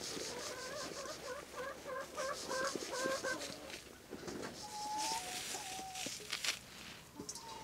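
Chickens cluck and murmur continuously as they feed on kitchen food scraps, with several birds close by and overlapping, a few sharper squawks standing out over the flock chatter.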